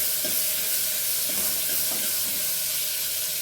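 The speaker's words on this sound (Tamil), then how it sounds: "இது கொஞ்சம் நல்லா கோல்டு கலரில் வர்ற வரைக்கும் நம்ம வதக்கிக்கலாம்." Onions sauté in a pan until golden, giving a steady, bright hiss of frying with occasional soft stirring swishes, close and continuous.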